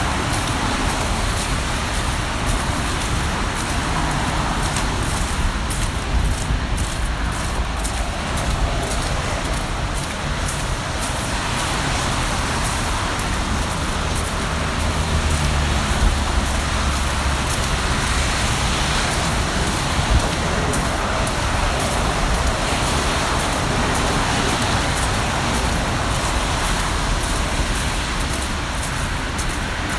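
Steady road traffic roars and hisses in a snowstorm along a roadside bike trail, a continuous wash of passing vehicles with no break and no one speaking.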